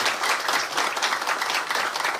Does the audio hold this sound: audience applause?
yes